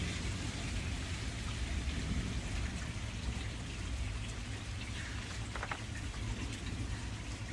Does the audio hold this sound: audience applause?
no